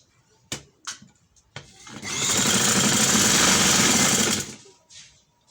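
A sewing machine stitching a ladies' neckline design runs in one loud, steady burst of about two and a half seconds, with a few sharp taps and clicks of handling before and after.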